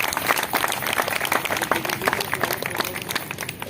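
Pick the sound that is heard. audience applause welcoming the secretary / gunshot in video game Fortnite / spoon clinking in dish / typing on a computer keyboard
audience applause welcoming the secretary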